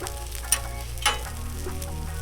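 A tomato-base meatball sub cooking on a Blackstone griddle gives a steady close sizzle, with a couple of brief clicks of a utensil over the frying.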